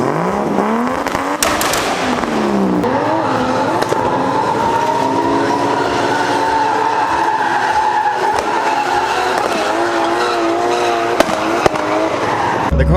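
A blue Nissan S13 drift car with an RB engine screams through a long slide, engine note rising and wavering over constant tyre squeal, loud and close throughout.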